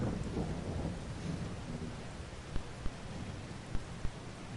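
Steady video-game rain hisses over a low rumble of thunder, with a few sharp drip-like taps standing out near the end.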